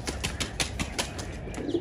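A small flock of pigeons takes off and flies, their wings flapping in quick, rhythmic bursts of clatter at close range, with a faint coo near the end.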